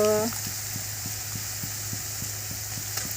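Food sautéing in a pan while making khichdi with green chillies, a steady soft sizzle with faint regular stirring taps, a short voice at the start.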